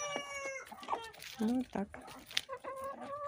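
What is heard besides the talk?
hens clucking while fed cabbage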